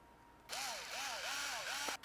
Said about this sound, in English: Having a power drill definitely helps in these